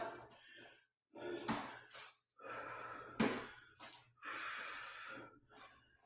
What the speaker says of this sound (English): I am breathing harder than I thought I would.